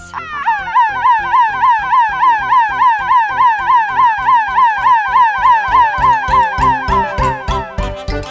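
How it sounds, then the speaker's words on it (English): An ambulance siren wails in fast repeating up-and-down sweeps, loud and steady throughout with a rhythmic pulse underneath, sounding close and alone without voices. "Ambulance."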